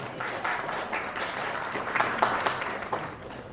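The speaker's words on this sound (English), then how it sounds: "a big clap for Haryana" An audience at an Aadhaar workshop gives steady, moderately loud applause, a dense wash of many hands clapping continuously for a few seconds.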